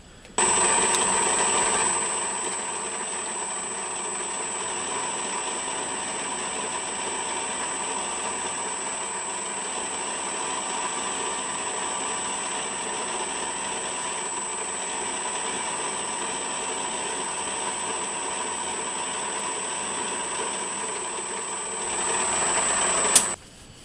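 A metal lathe runs steadily for over twenty seconds while a metal part is turned down on its outer diameter and center-drilled, giving a continuous whine with a high steady tone, starting and stopping abruptly.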